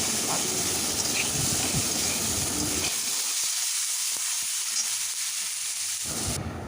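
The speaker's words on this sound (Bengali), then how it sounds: "আলু ভাজার সময় আমি অল্প পরিমাণ নুন দিয়ে দিলাম" Potatoes fry in hot oil with a little salt, giving a steady, close sizzle and hiss that drops to a quieter crackle with faint stirring clicks partway through.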